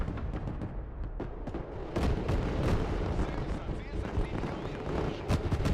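Rocket fire and explosions in the Broken Arrow real-time strategy game, a run of sharp bursts and rumbling booms of varying loudness, with a voice talking over the battle noise.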